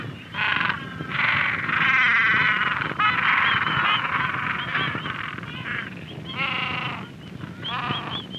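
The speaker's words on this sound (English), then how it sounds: "As I stoop to get closer, one of the agitated penguins opens its mouth in anger" Agitated gentoo penguins in the Falklands give loud, harsh braying calls with a nasal, honking quality, repeated in several overlapping bouts close by.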